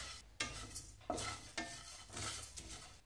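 Coriander, cumin and fennel seeds dry-roasting in a pan for pav bhaji masala, with a spatula scraping and stirring in quick repeated strokes over a faint crackle, close and without voices.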